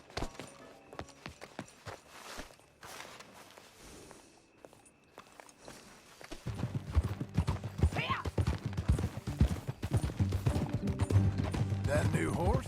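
Horse hooves clip-clopping in a video game as a rider travels, sparse steps at first, then a louder, steady rhythmic trot with creaking tack, while voices talk over it.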